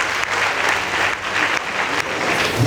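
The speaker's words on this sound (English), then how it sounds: "Please give them a round of applause." At a high school debate between Nyeri High School and Mahiga Girls High School, an audience applauds Mahiga Girls with loud, close, dense clapping, rising and falling in short surges with no one speaking.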